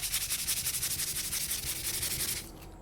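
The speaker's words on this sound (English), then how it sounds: "Give a final sanding." Close, rhythmic sandpaper strokes rub back and forth over repaired leather at a brisk, even pace, about a dozen passes, then stop.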